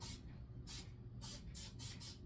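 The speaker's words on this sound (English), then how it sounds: "I'm just gonna cheat and use good old-fashioned non-stick spray" Non-stick cooking spray hissing from an aerosol can onto baking pans in a home kitchen, about five short bursts in quick succession, close and fairly soft.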